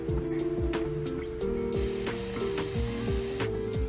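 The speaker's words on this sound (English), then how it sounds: "My pan is nice and hot, so I'm going to saute my onion and my garlic." Onion and garlic sauté in a hot pan, with a steady sizzling hiss that swells partway through and holds for a couple of seconds over soft background music.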